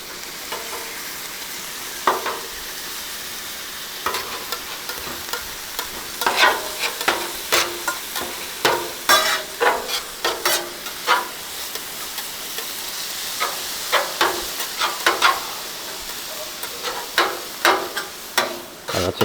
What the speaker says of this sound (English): that's a great sizzle